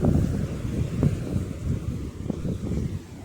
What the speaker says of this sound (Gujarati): જો પવન એટલો છે અને મોજો એટલો થઈ ગયો છે